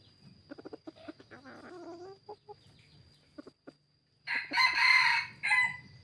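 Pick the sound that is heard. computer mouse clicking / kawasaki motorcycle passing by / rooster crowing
rooster crowing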